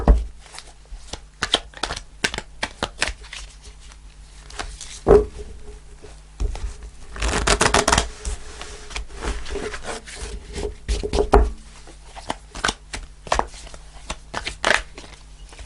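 Tarot cards shuffled by hand in a quiet room, a run of close crisp riffles and soft papery taps with a few louder bursts of rapid shuffling.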